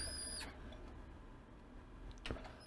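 A Sharp DV NC65 camcorder with a faulty tape transport squeals while playing a tape, a thin high whine at the start that cuts off, followed by faint mechanical ticking and a soft click.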